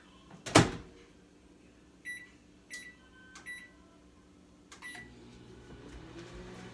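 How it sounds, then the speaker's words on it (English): A loud door clunk opens the clip, then a series of beeps from button presses setting 1 minute 30 seconds, and a microwave oven heating keto bagel ingredients starts up with a low steady hum. "So this is gonna go in the microwave for the allotted time"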